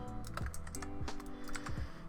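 A computer keyboard clicked in a few quick, close keypresses during photo-editing shortcuts, sharp taps spaced irregularly over a faint background hum.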